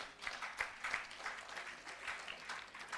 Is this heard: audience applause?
yes